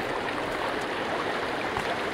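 A river in the survival game Sons of the Forest rushes steadily, a dense and constant hiss of flowing water heard close up and without pause, with no talking.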